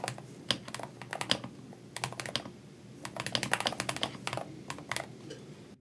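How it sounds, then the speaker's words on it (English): Fingers type on a Hator Skyfall 80 MAG keyboard with magnetic switches, giving close, crisp key clicks in quick irregular bursts separated by short pauses, with no talking. "I'm just typing"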